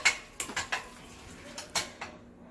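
Noodles being mixed in a pot, heard as a series of light metallic clinks and taps of a utensil against the pot, spaced irregularly and fairly close.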